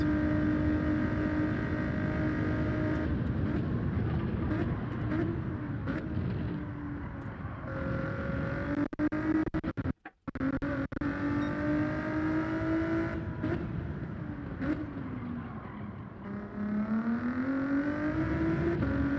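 A race car engine in Gran Turismo 7 at Suzuka holds a long first gear, revving and rising in pitch, dipping briefly at a shift, then climbing again, loud and continuous with no talk.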